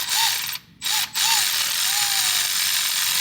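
A ratchet on a 7 mm wobble extension loosens the lower intake clamp on a 2022 Ford 6.7 diesel engine, giving loud, rapid clicking that runs almost continuously, with one short pause near the start and no talking.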